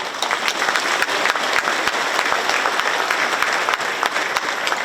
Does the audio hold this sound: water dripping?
no